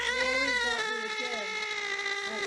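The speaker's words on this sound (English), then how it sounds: "That's what that cat's screaming at him." A cat screams in a long, loud, wavering yowl, harmonics bending up and down throughout, close and continuous with a low rumble under the opening moment.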